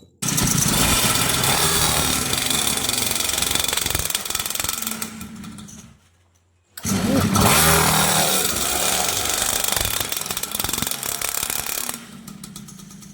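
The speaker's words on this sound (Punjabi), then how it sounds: "ਤੁਹਾਨੂੰ ਵਿਖਾਉਨੇ ਆਪਾਂ ਚਲਾ ਕੇ ਕਿਦਾਂ ਚੱਲਦਾ ਇਹ ਆ ਜੀ" A 2024 Suzuki RM 50cc kids' motorcycle engine runs with a loud, buzzy small-engine rasp up close, cutting out briefly to near silence partway through before roaring back and continuing.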